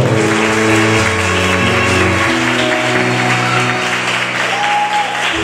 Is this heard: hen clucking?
no